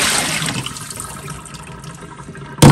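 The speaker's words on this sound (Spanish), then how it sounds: "Vamos a botar esta agua" Water poured out of a pot of rinsed beans, a continuous near splash and gurgle that fades gradually, ending with a brief sharp knock.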